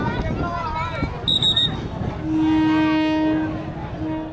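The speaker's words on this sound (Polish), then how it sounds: "podróż tym właśnie pociągiem, który przejeżdża przez środek targu" A train rolls slowly through Maeklong Railway Market in Thailand, its horn sounding a long, loud, steady blast at close range over a busy rumble and background chatter.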